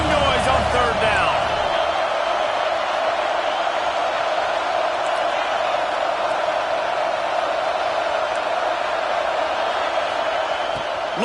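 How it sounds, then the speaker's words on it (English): At Georgia's stadium during a Tennessee game, a large football crowd sustains a loud, even roar on third down, with a bright steady whistle or horn tone inside it and a brief thump near the start. "This dog crowd is off the leash, and they are coming after them, bringing noise on 3rd down"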